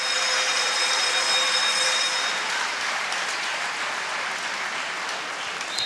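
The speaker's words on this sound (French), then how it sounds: "la joueuse de tout à l'heure qui quitte sous les applaudissements de la foule" Crowd applauding in an indoor hall as an injured player leaves the floor at a kin-ball World Cup match, a dense, loud, sustained wash of clapping that tapers slightly toward the end.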